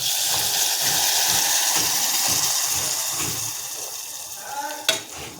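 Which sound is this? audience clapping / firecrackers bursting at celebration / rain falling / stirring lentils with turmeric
stirring lentils with turmeric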